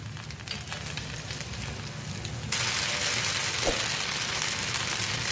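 Batter pancake or dosa frying in a little oil in a pan, a steady close sizzle and crackle that grows louder and brighter midway through, with no talk over it.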